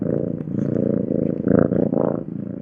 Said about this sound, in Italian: E poi c'è quel misterioso e straordinario potere delle fusa.